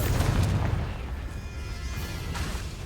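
A Confringo blast spell explodes in a wizarding video game with a low, rumbling boom that fades into a sustained roar.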